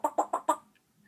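A parrot imitates a chicken clucking with four quick, evenly spaced clucks, close and distinct, then falls silent.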